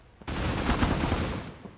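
A rapid burst of SMG fire in the Critical Ops game, a dense, loud rattle of shots lasting just over a second before cutting off.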